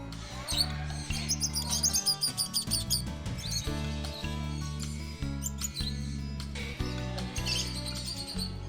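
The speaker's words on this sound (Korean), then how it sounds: "새들이 지저귀는 소리가 여기저기서 들려 정신이 없었지만" Many birds chirp and tweet busily at high pitch at a bird park, scattered all around over steady background music.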